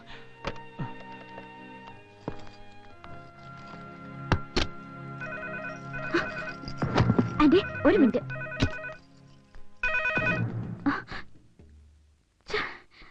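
A telephone rings in a repeating, tonal pattern partway through the scene. People talk around it, with a few soft thumps.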